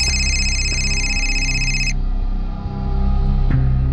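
A telephone rings with a bright electronic trill that stops partway, then a low steady hum carries on with a soft click near the end.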